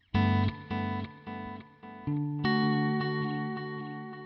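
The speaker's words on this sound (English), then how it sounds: "let's put delay and reverb on" Guitar through a budget pedal board with delay and reverb: a run of five or six plucked chords, each ringing then cut short, before a final chord sustains and slowly decays with echoing tails, no talking.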